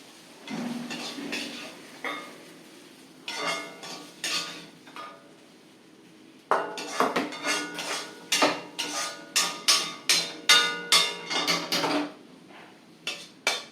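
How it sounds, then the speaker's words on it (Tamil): Beetroot curry scraped and spooned from a cooking pot into a serving dish, making a run of sharp metallic clinks and scrapes of a spoon against cookware, irregular at first then a quick, fairly loud rhythmic series, close by with no talk. "இப்போ நான் இதை வந்து இது சர்விங் டிஷ்ஷுக்கு மாற்றுறேன்"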